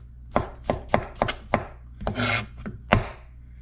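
Kitchen knife chopping a mushroom on a cutting board, with about eight crisp, close chops in an uneven rhythm and one longer scraping stroke partway through.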